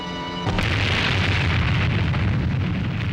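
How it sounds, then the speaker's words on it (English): Atomic bomb test explosion: a sudden deep boom that swells into a sustained, broad roar of rumble and hiss, loud and continuous for several seconds with no voices. "The explosion had a beauty that cannot be described, the beauty great poets dream about."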